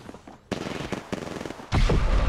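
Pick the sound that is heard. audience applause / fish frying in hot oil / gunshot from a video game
gunshot from a video game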